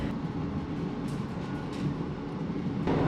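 A passenger train pulling into Girvan station on the Scottish coast, heard from inside the carriage as a steady low rumble of wheels and running gear, with a brief rise in noise near the end.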